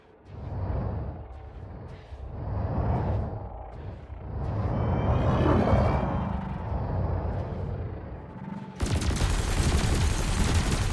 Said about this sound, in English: Your cannon will automatically reload until the ammunition supply runs out. Meanwhile, your laser will fire until the capacitor is depleted